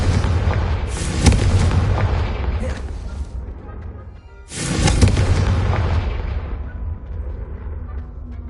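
Two booming blasting-spell explosions in Hogwarts Legacy, each a loud burst followed by a rolling rumble that fades out. A few seconds separate the two.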